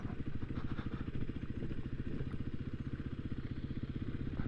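On a winding mountain detour road, motorcycles roll slowly in a group, their engines giving a steady, close, low throbbing rumble that barely changes throughout.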